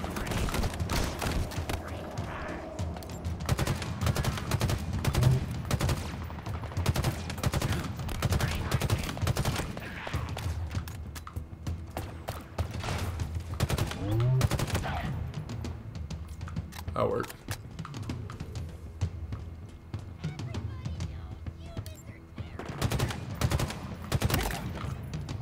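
Rapid gunfire from the player's weapon in Halo Infinite's campaign on Legendary difficulty, a dense run of sharp shots and bursts continuing through most of the stretch, with a voice talking over the combat noise.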